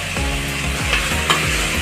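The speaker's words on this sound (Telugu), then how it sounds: "ఇప్పుడు కట్ చేసుకున్న టొల్లులండి వేసుకుంటున్నాను." Chopped tomatoes go into a pan of frying Hyderabadi-style mutton gravy, giving a steady close sizzle with scraping stirs repeating in a quick rhythm.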